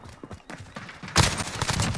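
An MP5/10 firing 10mm rounds in Call of Duty Modern Warfare, with a slower rate of fire: a few scattered shots, then a loud, close burst of rapid gunfire that carries on to the end.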